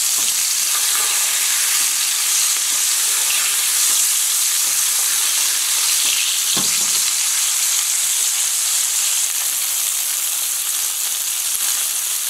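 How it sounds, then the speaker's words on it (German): Cod fillet frying in a pan and basted with an oil-butter mixture, giving a loud steady sizzle and hiss throughout with occasional small pops and spoon scrapes. "Jetzt können wir das Filet mit der Öl-Butter-Mischung übergießen."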